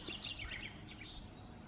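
Birds singing outdoors in nature near Oisterwijk, a scatter of quick high chirps and tweets in the first second, faint over a soft background hush.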